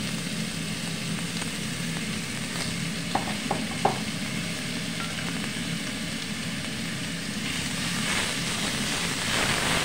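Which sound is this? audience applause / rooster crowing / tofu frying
tofu frying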